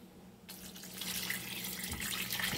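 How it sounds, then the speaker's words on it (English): Water pouring from a tap into a soup pot for a seaweed and bottle gourd fish soup, starting abruptly after a quiet moment and running as a steady splashing stream that grows slightly fuller. "So next, we're gonna add some water."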